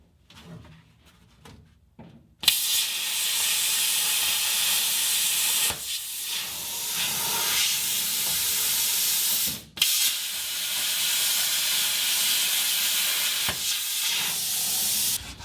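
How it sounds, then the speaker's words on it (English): A plasma torch cuts through the floor pans of a Jeep Comanche truck, a loud, close, continuous roaring hiss that runs in long bursts broken by short stops and clicks, with no talk over it. "Let's try cutting these with the plasma torch, see what happens."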